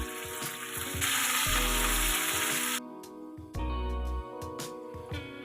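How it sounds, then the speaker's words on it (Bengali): Taro pieces fry in hot oil with turmeric and salt, a steady bright sizzle with scraping stirring knocks, briefly quieting before the crackle swells again. "দিয়ে একটু ভালো করে মিক্স করে ভালো করে ভেজে নেব"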